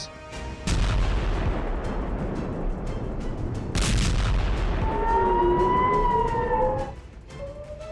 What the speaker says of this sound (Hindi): इजराइल में पूरी रात सायरन बजे।